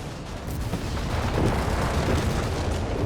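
Artillery shelling in Company of Heroes 3 rumbles as a continuous, loud barrage of booming explosions, swelling slightly midway and staying dense throughout.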